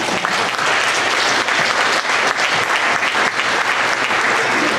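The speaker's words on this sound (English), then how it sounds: "yeah, you can clap" An audience at a high school assembly claps steadily for nearly five seconds: dense, continuous applause that stays loud and close throughout, with no voices rising above it.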